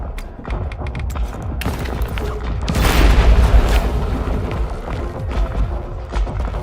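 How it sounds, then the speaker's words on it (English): A pipe bomb goes off in a video game, a heavy rumbling boom that swells and lingers over continuous background noise and scattered clatter. "Oh yeah, pipe bomb, pipe bomb."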